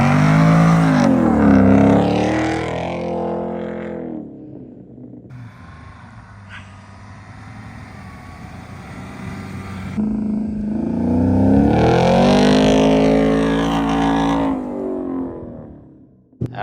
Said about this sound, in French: Et le Mercedes, ben lui avec ses pneus d'origine, finalement il se défend pas si mal que ça dans le désert.